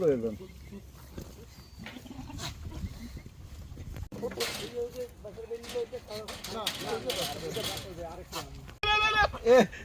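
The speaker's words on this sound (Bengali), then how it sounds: "প্রচুর ছাগল দেখা যাচ্ছে" Goats bleat repeatedly amid people talking nearby at a cattle market, with a loud, wavering bleat near the end.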